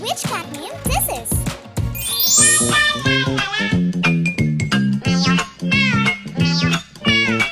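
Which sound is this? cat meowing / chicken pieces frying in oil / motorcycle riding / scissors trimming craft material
cat meowing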